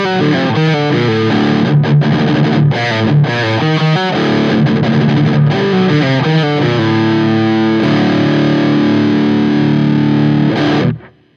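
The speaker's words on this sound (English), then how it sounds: "Now I can engage the overdrive." An electric guitar played through an overdrive pedal with the level pushed all the way up into an already dirty amp gives thick, sustained distorted chords and riffs, loud and continuous, ringing out before cutting off at the end.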